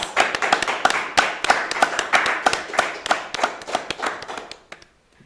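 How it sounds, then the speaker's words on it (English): An audience at a spoken word and music night claps for a poet, sharp individual claps in a fairly small crowd, close and distinct, fading out near the end. "Can we have another round of applause for Andrew"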